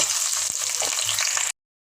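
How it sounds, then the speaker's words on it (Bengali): Onion hits hot oil for a desi chicken and potato curry, giving a loud, dense, even sizzle for about a second and a half before stopping sharply. "এখন তেলে হচ্ছে পেঁয়াজ দিয়ে দেবো"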